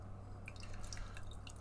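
Caramel apple cider poured into a brewery glass, a faint patter of small liquid drips and splashes against a quiet background.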